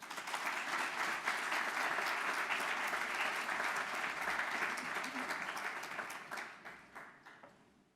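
An audience at a 2023 graduation ceremony of the IIS institute welcomes a professor with sustained applause, a dense roar of clapping that holds steady for several seconds before thinning out and fading to a few scattered claps.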